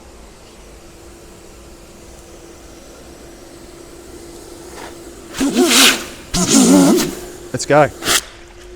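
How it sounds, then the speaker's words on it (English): Nilfisk wet vacuum cleaner drawing water through a 15 m suction hose: a low steady hum, then several loud gurgling, slurping suction bursts near the end, with a brief spoken phrase. "We'll drop the hose in, we'll do a scoot back, and look how the vacuum performs."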